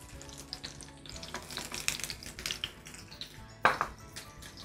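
Onion frying in a pan while a hammour fish tray is prepared, a close crackling sizzle with scattered pops and a few utensil taps, one louder clink near the end.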